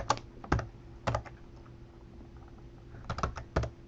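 Computer keyboard typing while entering commands to patch ESXi 5.0: short clusters of crisp key clicks with quiet pauses between, close and moderately loud.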